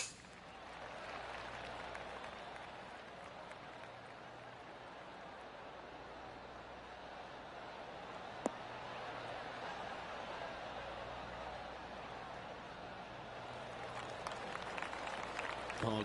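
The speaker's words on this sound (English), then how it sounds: "Oh, golf clap." A crowd in a golf video game gives a soft, sustained golf clap after a shot, a long even patter of light applause at moderate distance with a commentator talking over it.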